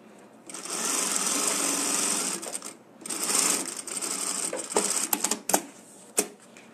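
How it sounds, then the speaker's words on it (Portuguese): Sewing machine stitching a seam on a fabric wallet with a zipper, printed fabric and lining, running in long steady bursts that stop and restart, closing with a few short quick stitches. "Vou bater uma costurinha."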